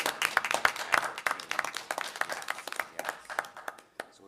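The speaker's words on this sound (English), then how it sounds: "you guys just need to give yourself a round of applause" A small group at a village council meeting gives a round of applause, a short, uneven patter of a few people clapping nearby that thins out toward the end, with scattered claps trailing off.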